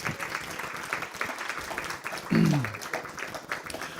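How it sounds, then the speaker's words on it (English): Applause from an audience, a dense steady patter of clapping at moderate level, with a brief low hum or voice-like tone rising midway. "Let's give them another round of applause."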